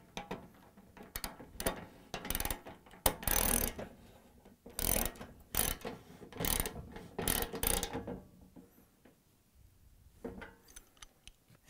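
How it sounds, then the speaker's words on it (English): Socket wrench with a 13/16 socket ratcheting as it tightens a Venturi nut on a Bosch/Thermador/Gaggenau gas cooktop, heard as bursts of close, loud clicking strokes with short pauses, then quieter handling near the end. "now we're going to tighten them with a 13/16 socket wrench"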